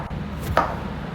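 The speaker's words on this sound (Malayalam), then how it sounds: "ഇതാണെന്ന് വെച്ചാൽ കഴിക്കാൻ പറ്റതിൽ അരിഞ്ഞു കൊണ്ട് ഇരിക്കുകയാണ് കോളിഫ്ലവർ" A knife chops cauliflower into curry-sized pieces, with one or two close, dull strikes on a board amid low background noise.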